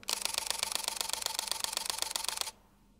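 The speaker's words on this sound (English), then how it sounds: "You've also got a maximum continuous shooting speed of 8 frames per second with the mechanical shutter," A Fujifilm X-S10 mirrorless camera fires its mechanical shutter in a rapid continuous burst at 8 frames per second, a close, crisp train of evenly spaced clicks lasting about two and a half seconds before stopping abruptly.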